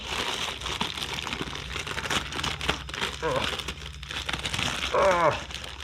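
Stiff, strong plastic packaging is wrestled open at close range. It makes loud, continuous crinkling and crackling with sharp tearing bits, and brief voice sounds mix in.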